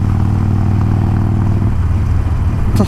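A Harley-type motorcycle engine runs steadily and loud, its low throbbing exhaust note holding close for most of the moment before the rumble loosens and a brief clatter rises at the end.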